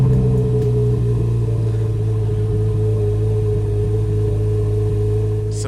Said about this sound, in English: All right, I'm starting up the Corvette Z06.